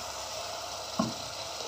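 Onions and carrots frying in a pan, a soft steady sizzle at low level with one small pop, no voices.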